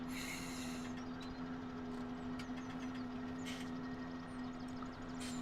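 A tractor engine idles steadily in Farming Simulator, a constant low drone holding one pitch throughout, moderately quiet and alone with no voices.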